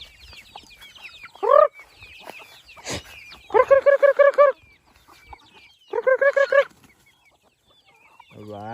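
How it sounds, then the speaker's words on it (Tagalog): Chickens on a farm cluck close by in several separate bursts of rapid, repeated clucks, with quieter chirps and rustling between them. "alaga din tayo mga manok dito"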